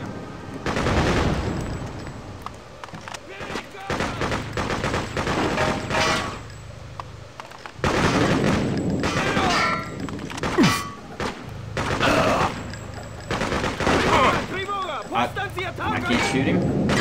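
Video game gunfire from Freedom Fighters, bursts of automatic fire and thuds in repeated clusters, loud and close, with someone shouting over the shooting throughout.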